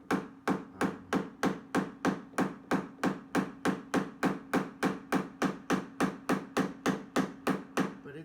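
Rapid, evenly spaced hammer taps ring out close and loud, about three per second, as a hammer works a dent in the steel body panel of a 1971 Pontiac Firebird 350 during paintless dent repair.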